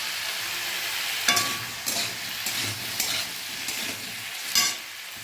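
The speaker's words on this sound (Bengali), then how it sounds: "ভালো করে নুন হলুদটা সবজির সঙ্গে একটু মিশিয়ে দেবো।" Vegetables being stirred with salt and turmeric in a frying pan: a continuous soft sizzle broken by several sharp scraping strokes of a spatula against the pan at irregular intervals.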